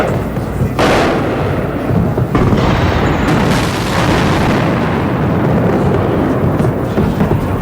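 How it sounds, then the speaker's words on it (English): Explosions during an attack on Baghdad: heavy, rolling booms under a continuous loud roar, with several sharper blasts breaking through, distant yet powerful. "we had some ground explosions there"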